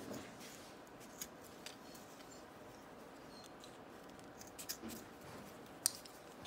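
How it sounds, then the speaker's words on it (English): Scissors snip through the sewn fabric loop of a collar strap for a Garmin PT-10 e-collar, a few faint, quiet clicks and cuts scattered over soft background hiss with no talking. "I'm gonna cut off one piece of that loop that's sewn together"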